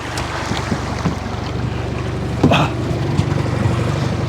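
A fishing boat motor runs on a river with a steady low drone under wind buffeting and water noise, continuous throughout, with a brief louder knock midway and no talking.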